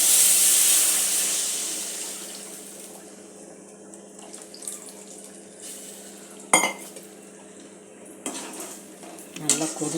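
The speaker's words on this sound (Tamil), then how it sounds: "இப்போ புளி கரைச்சதை ஊற்றிடலாம்." Tamarind water is poured into a pot of fish curry on the stove, giving a bright splashing rush at the start that fades into soft simmering, with scattered clinks of a utensil against the pot.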